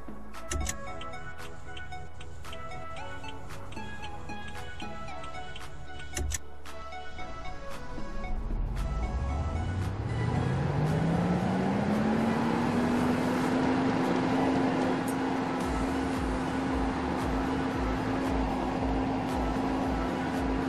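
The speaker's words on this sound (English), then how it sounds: "And here's the startup sound." A video game car engine starts up with a whine that climbs in pitch and then settles into a steady, droning idle. It is fairly loud and sits over background music.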